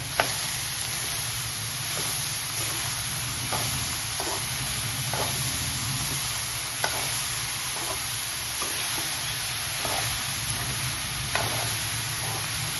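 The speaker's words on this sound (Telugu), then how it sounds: "ఇప్పుడు మనం కలుపుకుందాం దీనికి." Chopped ridge gourd is stirred in a hot pan for a dal, under a steady loud sizzle of frying, with repeated spatula scrapes and taps at irregular intervals throughout. No one speaks.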